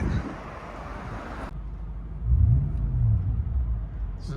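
A 1996 Lexus LS 400 with a 4.0L V8, true dual exhaust and valved mufflers, heard from inside the cabin: a wind-buffeted intro gives way to a muffled low engine rumble that swells briefly as it revs and then settles.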